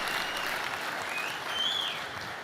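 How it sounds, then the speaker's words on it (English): A big crowd at a tech keynote claps in a dense, continuous burst of applause, even in loudness across the moment, with a faint whistle-like tone rising briefly over it. "I love it when you clap"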